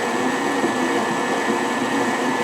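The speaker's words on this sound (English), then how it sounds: "Let the KitchenAid do all the work for you" KitchenAid stand mixer running at a fairly high speed while kneading hot water pie crust dough, a loud, steady motor whir close by with no pauses.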